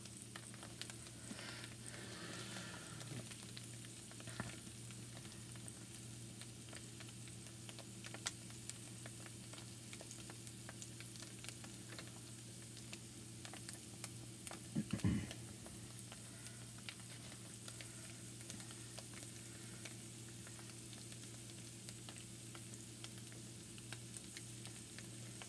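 Thin strips of tofu seasoned with salt and pepper sizzle in a skillet, a steady, faint, close frying hiss with light ticks and one brief clatter partway through.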